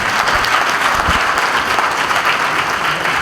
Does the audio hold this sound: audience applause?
yes